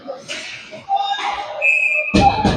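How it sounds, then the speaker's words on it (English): Referee's whistle stopping play in an ice hockey game, Scorpions vs Aigles, a shrill tone sustained over crowd and arena noise with commentary running throughout. "Whistle on the play with 1:54 to go in the second."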